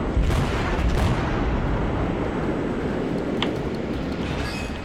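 Heavy warship guns boom in World of Warships, opening with a couple of deep blasts, then settling into a continuous low rumble through the rest of the clip.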